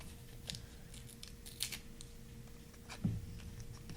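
Paper torn by hand for junk journal ephemera in a few short, faint rips and crinkles close by, separated by quiet pauses.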